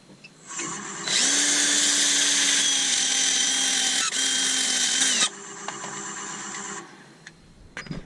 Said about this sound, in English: Just sand up the bottom.